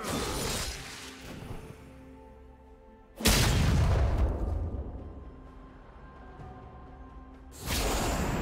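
A turret is destroyed in League of Legends, giving a sudden loud shattering boom that decays slowly, followed by a second heavy impact near the end.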